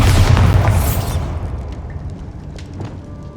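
A Bombarda spell explosion in Hogwarts Legacy: a loud, deep boom that roars at the start, then decays into a long rumbling tail with faint debris clatter.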